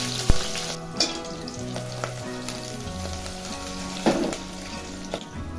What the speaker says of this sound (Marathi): तेल गरम झालं की लसूण घालायचं आहे